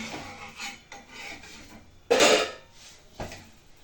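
A bajra bhakri topped with sesame seeds is flipped on a hot griddle, giving a close scraping rasp and a sharp thump as it turns, surrounded by softer rubbing sounds and no talking.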